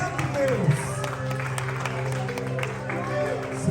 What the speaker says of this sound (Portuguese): Aplauda Ele mais forte, Ele é digno.